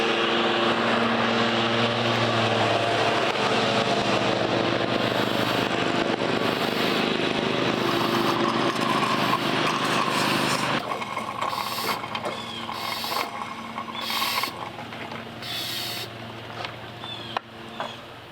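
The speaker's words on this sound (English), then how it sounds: "Let's vac this stuff out, at least get the reservoir full of good stuff." Shop vacuum drawing old fluid out of the reservoir of a 1986 Chevy C30 truck, a loud, steady motor whine and suction roar that drops and turns intermittent partway through.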